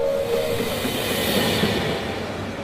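A train rolls along steadily as a loud, continuous rumble and hiss with faint rhythmic clatter, heard alone as a sound effect in a children's tale.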